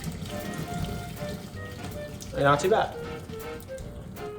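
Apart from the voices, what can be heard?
pouring boiled pasta water into a strainer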